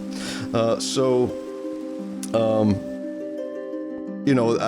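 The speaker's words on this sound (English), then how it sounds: "I think I'm going to get rid of that rain." Rain patters steadily in a Minecraft world, a soft continuous hiss beneath intermittent bursts of someone speaking.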